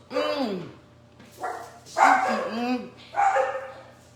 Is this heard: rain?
no